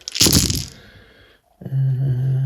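Dice rolled during a tabletop wargame battle between Ork and Drukhari armies: a loud burst of rattling and clattering, a short pause, then a steadier rolling rattle with a low hum underneath.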